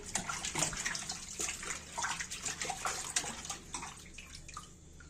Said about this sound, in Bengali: এখন মাছ ধোবো এখন